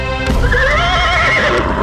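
A horse gives one loud, close neigh that rises and wavers in pitch and lasts over a second, with a faint hoof clop under it, in a mythological television drama.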